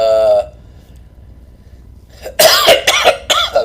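A brief tone, a quiet pause, then a burst of harsh, close coughs and throat clearing in rapid succession.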